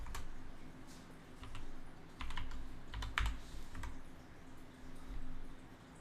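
Typing on a computer keyboard for database data entry, with irregular bursts of soft key clicks and a few louder taps over a steady low hum, close up and with no voices.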